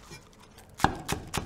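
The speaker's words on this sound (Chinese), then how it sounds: "准备适量的生姜和大蒜拍散剁碎备用" Ginger and garlic are smashed and minced on a board, giving three sharp, close chopping knocks spaced about a quarter second apart after a brief quiet moment.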